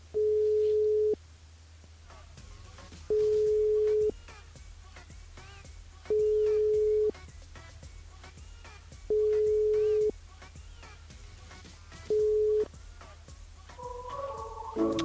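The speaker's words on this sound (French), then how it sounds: "On appelle Madison sur le jeu" During a radio phone-in call, a telephone busy signal repeats five times at even intervals, each a steady beep of about a second over quiet line hiss. A short burst of other sound follows at the end.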